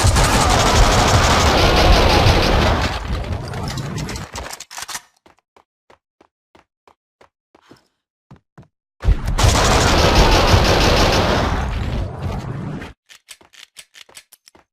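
Max Payne 2 gunfire comes in two long, loud sustained bursts of shooting, each dropping to silence broken by scattered sharp single clicks and cracks.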